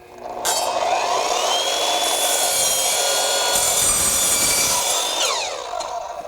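An Evolution multi-material miter saw spins up and cuts through a standard piece of wood with a fresh blade. The whine rises, holds through a loud steady cut of several seconds, then winds down.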